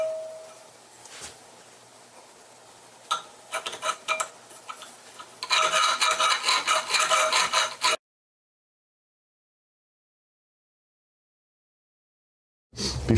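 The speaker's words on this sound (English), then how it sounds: "Let me deburr it. Just grab a little file or something" A small hand file deburrs the inside of a metal part for a go-kart throttle linkage on a Predator engine, giving scattered scraping strokes that turn into a louder burst of rasping before the sound cuts to silence.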